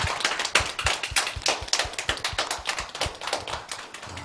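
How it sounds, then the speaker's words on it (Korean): A church congregation claps together in applause at a Christmas thanksgiving service, a steady rapid patter of many hands that holds loud and even for the whole stretch with no talking. "우리 은혜 주신 하나님께 영광의 박수 올려드리겠습니다."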